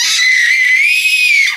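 A child lets out a single high-pitched, sustained scream at home, loud and close, holding one shrill tone for over a second before it trails off.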